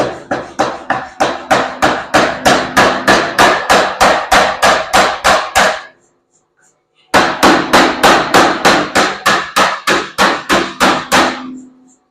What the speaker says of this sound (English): So we are going to take it to the power hammer and forge weld.